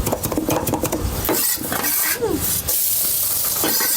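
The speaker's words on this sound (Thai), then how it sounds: "มันเดือดเลย" Pork and holy basil stir-fry bubbles and hisses vigorously in a hot pan, a loud continuous close sizzle with occasional utensil clinks and stirring scrapes, no speech over it.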